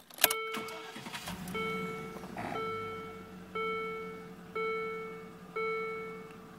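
A 2004 Land Rover Discovery HSE cranks and fires, then settles into a low, steady idle. Evenly spaced electronic chimes ring over the engine at regular intervals.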